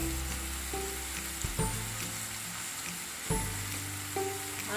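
Vegetables stir-frying over a high flame with black pepper and soy sauce for veg hakka noodles give a loud, continuous sizzle, cut by occasional spatula scrapes and clinks.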